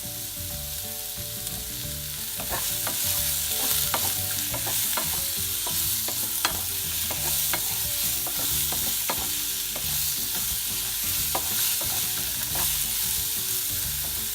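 Raw mango murabba mixture with salt fries in a pan, a steady close sizzle broken by regular scraping strokes of a spoon stirring throughout.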